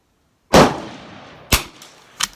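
Three sharp gunshots fired at a shooting range during an ammunition test: one loud crack, then two more spaced about a second apart, each with a short echoing decay outdoors and no voices.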